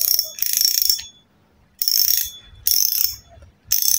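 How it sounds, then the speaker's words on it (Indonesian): Ratcheting clicker of a Daido Balanar 2000 spinning fishing reel, sounding in three or four bursts of rapid bright clicks separated by short pauses, close and fairly loud with no voices. "Suara clickernya nyaring"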